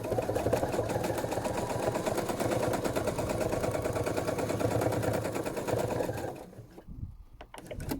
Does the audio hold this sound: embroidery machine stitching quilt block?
yes